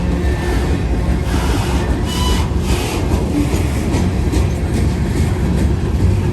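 A freight train with a distributed power locomotive rolls past at a railroad bridge near the summit of a steep grade, giving a loud, steady rumble of wagons and wheels that holds for the whole stretch.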